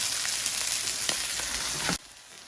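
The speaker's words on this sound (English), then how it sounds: "I got the last pork chop in the pan." A pork chop pan-searing, giving a loud, dense sizzle that runs steadily for about two seconds and then cuts off sharply, with no talk.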